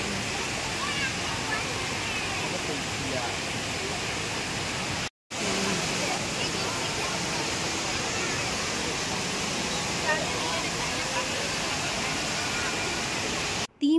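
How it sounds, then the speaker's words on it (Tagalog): Steady, loud rushing of an indoor waterfall at Jewel Changi Airport fills the whole stretch, a continuous roar that cuts out briefly once. "Ating pakinggan ang mga rumaragasang tubig mula sa waterfall."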